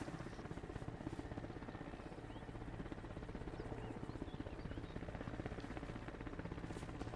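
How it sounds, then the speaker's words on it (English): An Mi-28 attack helicopter flying in the video game Arma Reforger, its rotor beating in a fast, steady chop that carries on without pause throughout, alone and fairly loud. "there's a freaking hind, bro. Or not a hind, an MI-28."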